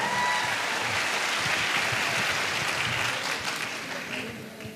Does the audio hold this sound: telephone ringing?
no